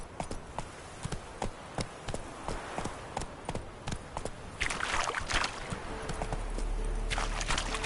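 Roach the horse gallops in a PS4 video game: steady, evenly spaced hoofbeats thud throughout, joined by a rushing, splashy wash partway through.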